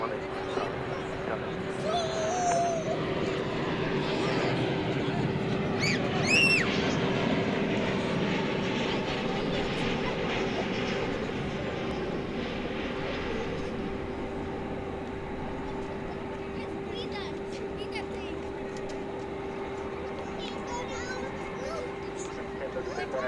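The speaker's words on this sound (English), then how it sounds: "now let's check out the aviation stylings of flight 1931 from Phoenix, a MAX 8" A Boeing 737 MAX 8 arriving from Phoenix at DFW Airport gives a moderate, steady jet whine and rumble with a sustained tone, fairly distant, while people talk intermittently over it.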